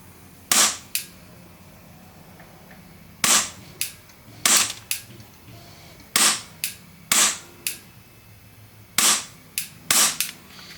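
CowCow Action Army AAP-01 airsoft pistol fired in about a dozen sharp, close cracks, mostly in pairs with short gaps between, and a quiet background between shots.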